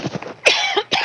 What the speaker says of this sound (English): I'm going to play a little bit of music while I have a little bit of a coughing fit here